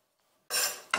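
Sliced shiitake mushrooms pushed onto a plate in a kitchen, heard as two close, bright scraping clatters of a knife and dish after a near-silent start.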